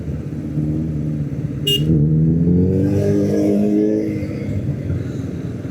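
A Suzuki Hayabusa superbike engine revs up nearby, its pitch rising and falling in a loud roaring sweep before settling back to a rumble.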